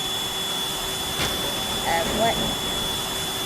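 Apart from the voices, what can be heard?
vacuum cleaner weapon running in video game Teardown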